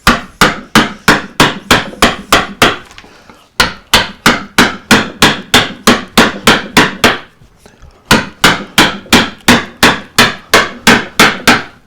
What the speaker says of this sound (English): with a deep gouge, I'm going to start here. I'm just going to start removing wood across the grain like this